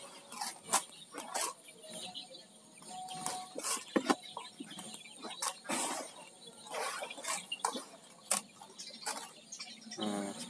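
Laying hens cluck and chirp in short bursts, scattered through the recording, fairly close but faint, with no talking.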